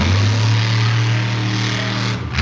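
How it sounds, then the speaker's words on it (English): A monster truck engine revs hard at a summer show in Evansville, a loud, sustained, deep roar that dips briefly near the end before surging again. "just listen to the truck first of all"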